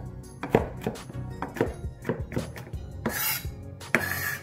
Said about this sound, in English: So about three cloves of garlic that we're gonna mince up.